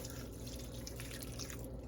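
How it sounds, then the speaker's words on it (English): Pasta cooking water pours into a creamy bacon and summer squash sauce in a pan, giving a steady close liquid trickle and dripping that runs throughout with no talk. "in goes some of our water"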